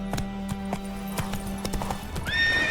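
Roach the horse gallops in The Witcher 3 with quick, evenly spaced hoofbeats, then a loud neigh rises at the end.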